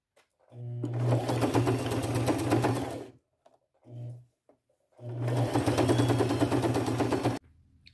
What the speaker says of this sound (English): I'm going to put a bunch of rows of stitches because this is a stress point